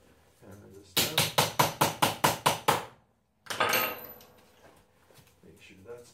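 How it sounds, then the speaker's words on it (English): Eight quick, close hammer strikes land in an even rhythm, followed by a short scraping and handling noise. "Hammer this down."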